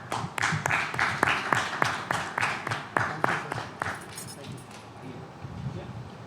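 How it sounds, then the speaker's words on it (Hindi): Sparse, rhythmic clapping from a small audience at an award ceremony in Uttarakhand, a few seconds of distinct claps that thin out and fade, with voices murmuring underneath. "तालियां बजाते रहिए"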